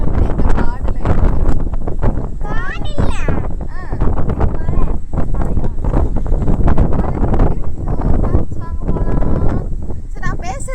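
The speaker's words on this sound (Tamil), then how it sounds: "காத்து வேற அடிக்குது" Wind gusting over the microphone on a forested hill road among bamboo and banyan trees in rainy, foggy weather, a loud, unbroken rumble with someone talking throughout.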